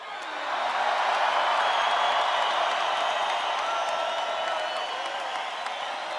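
Large crowd at a Donald Trump rally in Colorado applauding and cheering, a dense, steady roar of clapping and shouts that swells in and holds loud for several seconds.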